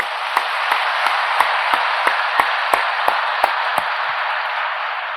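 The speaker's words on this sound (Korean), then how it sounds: "우리 하나님께 한 박수로 감사합니다." A church congregation claps in steady unison, about three sharp beats per second, over a continuous hiss of crowd noise, loud and close throughout.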